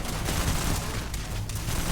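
Gunfire in the video game Starfield on very hard difficulty, a dense, loud, continuous barrage of overlapping shots with no pauses.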